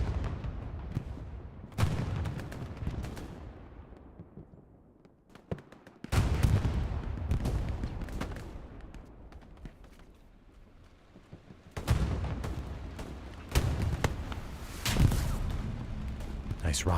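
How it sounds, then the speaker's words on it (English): Rocket explosions in the World War II shooter Hell Let Loose at Carentan train station, several heavy booming blasts with long decaying rumbles, spaced several seconds apart amid ongoing gunfire, with a voice talking faintly underneath. "Nice rocket over to the back from Ark."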